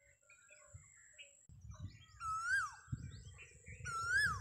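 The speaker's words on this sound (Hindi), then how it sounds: "सुन रहे हो कोयल दी केडी प्यारी आवाज़ है" An Asian koel sings from a tree in a rural Punjab village, giving clear rising whistled calls that repeat twice over quiet rustling and low background noise.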